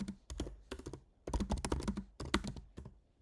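Bursts of clacking keystrokes on a computer keyboard as Python code is typed, close and distinct, in short clustered runs with brief pauses between, no talking.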